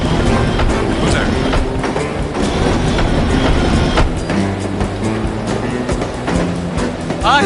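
Train ride in the video game No One Lives Forever, a steady rumbling rail roll with faint clickety-clack running throughout, loud and continuous, with voices talking over it.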